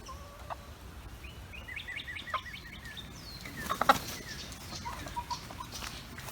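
Chickens outdoors in the rain, scattered soft clucks and calls over a steady patter of rainfall, fairly faint and close.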